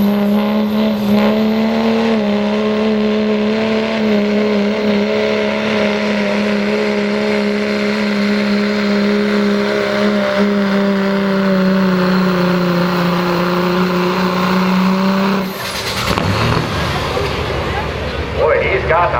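A pro mod diesel 4x4 truck at a diesel drag racing event roars down the track, its engine holding a loud sustained drone with a slowly falling pitch before cutting off abruptly near the end.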